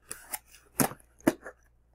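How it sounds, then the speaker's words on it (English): A box cutter slices open a shipping package from eBay: a few crisp, close cuts and scrapes in quick succession, each short and sharp, with brief quiet gaps between them. "So, got my trusty little box cutter here, and we'll see what we got here."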